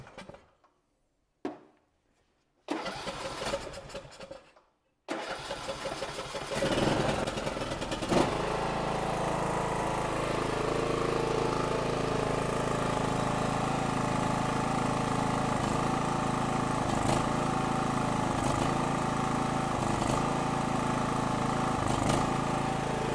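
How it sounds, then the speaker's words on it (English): A John Deere 100 series riding lawn mower engine cranks in a few short bursts with pauses between, then catches and settles into a steady, loud, continuous running drone that holds for the remaining seconds. "I'm going to start this engine up."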